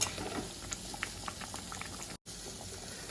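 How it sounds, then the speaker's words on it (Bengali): A fish curry simmers in a pot with a soft, steady bubbling and occasional small pops, faint and close, with no talk over it. "মাছগুলো দিয়ে আমি একটু ফুটিয়ে নেব।"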